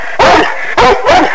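Coon hounds bay at a raccoon treed in thick cover, three loud, close barks in an uneven rhythm with short gaps between them.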